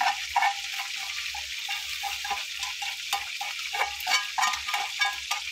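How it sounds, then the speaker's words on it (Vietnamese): Stir-fried meat is tipped into a pot of soup on the stove, giving a steady wet bubbling and stirring with soft scraping, close and continuous, with no voices. "Bây giờ mình sẽ cho thịt lúc nãy mình xào cho vô cái nồi canh luôn nha mọi người."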